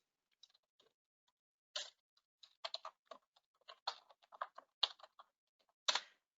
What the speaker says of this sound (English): I'm going to type one in.